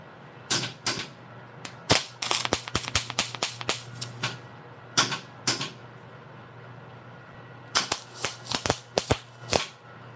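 Gas-shielded welding on quarter-inch steel rod for a Losi LST RC rollcage comes as sharp, crackling bursts, a quick cluster of short tacks, then a pause and a second cluster, close and loud, with no voices.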